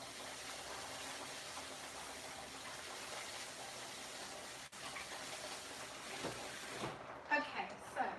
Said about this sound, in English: I'm going to give this a little rinse, then stick it in this rice cooker.